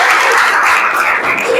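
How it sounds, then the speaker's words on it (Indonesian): A classroom of students applauds together during a history lesson, a dense, steady burst of clapping that fills the room for a moment with no talk over it. "tepuk tangan untuk kita semua"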